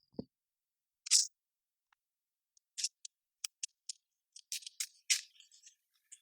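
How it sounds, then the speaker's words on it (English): Board game event cards for Hydro Soakers riffle and flick in short bursts, a series of quick crisp snaps and slaps close by with brief pauses between. "And you just shuffle those up."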